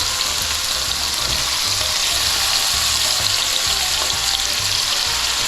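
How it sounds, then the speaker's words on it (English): Pheasant pieces sizzling and crackling steadily in a hot frying pan, continuous and close, with faint low clatter underneath and no talking. "You want it to sizzle the second you put your pheasants in there"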